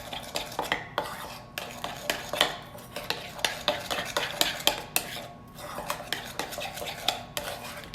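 Lemon juice icing stirred in a bowl for a keto lemon pound cake, quick repeated clinks and scrapes of a spoon against the bowl in an uneven rhythm, close and alone.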